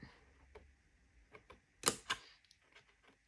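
Paper being cut for a scrapbooking gift bag, heard as quiet, sparse snips and clicks with two sharper, louder cuts near the middle.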